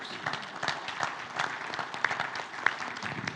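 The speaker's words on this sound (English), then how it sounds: "An applause for Dr. Marcela Diaz-Myers." A crowd applauds, a steady patter of many hands clapping with a few sharper claps standing out, moderately loud in a large room.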